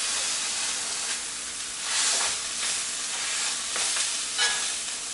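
A pork and beef smash burger sizzles steadily on a griddle, a dense, even crackling hiss with small swells in intensity and no voices.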